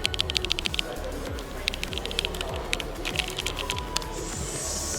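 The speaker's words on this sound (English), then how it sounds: "This is a hex keyboard." Clicky keystrokes on a hex mechanical keyboard in a showroom, a quick uneven run of taps close by over a low background hum, with a brief hiss near the end.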